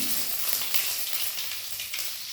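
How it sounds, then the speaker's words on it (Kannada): Dried red chillies go into hot oil with cumin seeds over a low flame for a curd-rice tempering. The result is a close, continuous crackling sizzle that fades slightly toward the end. "ಈ ಒಣಮೆಣಸನ್ನು ಹಾಕ್ತಾ ಇದ್ದೀನಿ"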